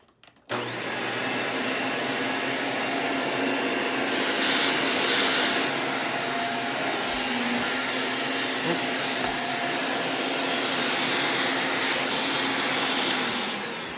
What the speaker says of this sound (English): So we'll go ahead and vacuum in here with this guy.